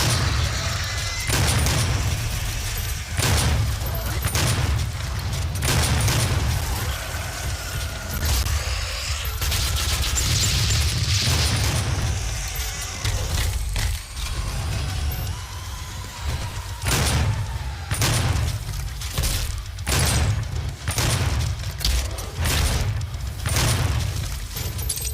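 Rapid gunfire and booms from weapons in Doom, many sharp bursts repeating in irregular rhythm over a steady low musical bed, loud and continuous throughout.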